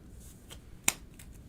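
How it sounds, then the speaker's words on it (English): A deck of game cards from a DC deck-building board game being shuffled, soft short riffles with one sharp snap of cards near the middle, close and quiet with no talking. "Shuffle everything up."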